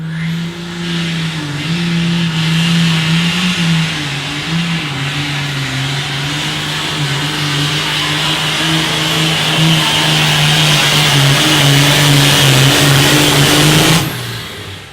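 A tractor at an outlaw farm-tractor pulling event revs hard and steady while dragging the weight sled, a loud sustained engine roar that holds its pitch for about fourteen seconds before cutting off abruptly.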